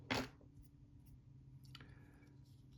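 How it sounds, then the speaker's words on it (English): A single sharp snip of scissors cutting a thread stem near the start, followed by a softer second cut and quiet handling noise. "I'm going to reach in with my scissors and cut that stem off"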